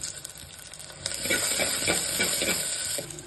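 Shallots, dried red chillies, curry leaves, coriander and cumin frying in hot oil, a crackling sizzle that swells after the first second with repeated scraping stirs against the pan, close and steady, no voices.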